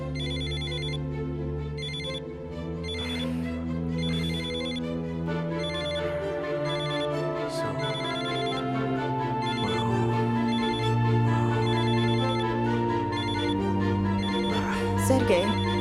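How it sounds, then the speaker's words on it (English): A telephone ringtone repeats steadily for about sixteen seconds in a dramatic scene, its bright electronic pattern pulsing in short bursts over a low, sustained musical background. "Come on, Sergei, just pick up the phone."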